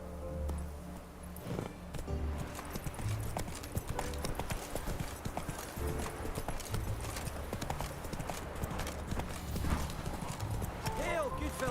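Roach, the horse in The Witcher 3, gallops in quick, steady hoofbeats and gives a whinny partway through, while a character's voice speaks over the game sounds.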